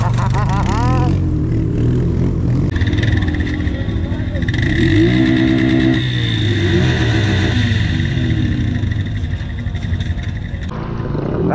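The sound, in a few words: Can-Am Outlander ATV engine revving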